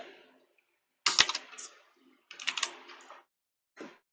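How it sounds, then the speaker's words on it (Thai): Close, quiet keystrokes on a computer keyboard as Task Manager is typed, in three short bursts of rapid key clicks separated by silent pauses. "ผมแล้วก็พิมพ์คำว่า Task Manager"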